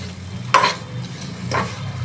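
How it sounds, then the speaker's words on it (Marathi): Raw mango pickle with sugar is stirred in a pan, two distinct scraping strokes of the spoon over a faint, steady sizzle, close up and with no voices. "आता आपण परतूया"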